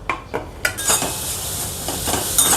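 Grated amla tossed into a hot pan with cardamom and stirred, a few metal clinks of a spoon against the pan followed by a soft continuous sizzle and scraping, close by.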